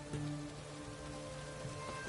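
Steady rain falls in The Witcher 3, a continuous even hiss of drops across the whole stretch with faint tonal background hum and no talking.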